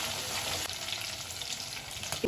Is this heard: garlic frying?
yes